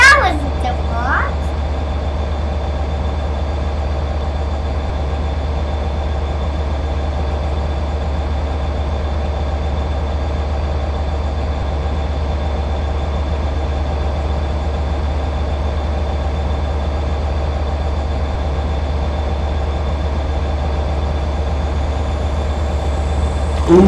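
A steady, low mechanical rumble of a Class 67 locomotive in Train Simulator 2013 drones on without a break, with a faint higher hum above it and no clear build or fade.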